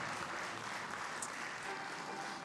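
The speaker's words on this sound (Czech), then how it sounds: "Z lásky k té muzice se zaslouží potlesk," Audience applause at an evening club concert, a steady dense wash of clapping from a crowd filling the whole moment at moderate distance, no voices on top.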